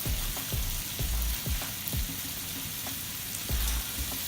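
Raw chicken is rinsed under a running tap. A continuous hiss of splashing water carries soft, repeated thumps and knocks as the meat shifts, and no one speaks.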